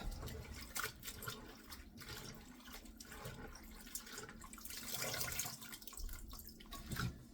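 Salted kimchi cabbage being drained, with a soft, continuous trickle and splash of running water, fairly quiet, with a few small swells and drips.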